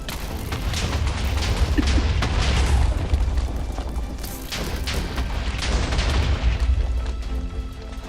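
Bombs go off in a Minecraft game as a rapid, dense barrage of booming blasts, loud and continuous with rumbling low ends and crackling bursts overlapping throughout.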